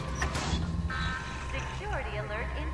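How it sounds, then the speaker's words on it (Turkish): An electronic security alarm in the remastered game Bioshock sounds as a few steady, beeping tones under a lively voice talking over the game. "Güvenlik alarmı devrede."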